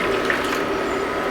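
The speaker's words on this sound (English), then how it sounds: "so now we're going to add water." Water poured into a pot of red beans while cooking hopia filling, a steady close splashing and filling noise running continuously for the whole short stretch with no talk.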